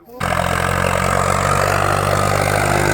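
Four-wheel-drive tractor engine, a Swaraj 855 or Kubota 5502, starts up and settles into a loud, steady diesel idle with a deep low throb, running continuously close by.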